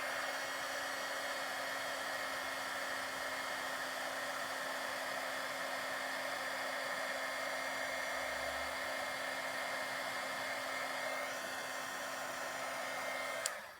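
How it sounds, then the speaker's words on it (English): A craft heat tool blows steadily as it melts copper embossing powder on a Christmas card, a constant loud hairdryer-like whoosh with a fine whine that holds for about thirteen seconds before cutting off abruptly at the end. "I've got a heat tool that I'm going to heat up the powder with"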